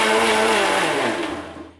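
A mixie grinder whips cream with vanilla essence, a loud high motor whine that drops in pitch as the cream thickens, then winds down and fades as it switches off.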